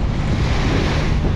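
Choppy ocean with a big swell under cloudy skies, heard from a fishing boat: a steady, loud broadband roar of wind and rushing water, continuous with no pauses.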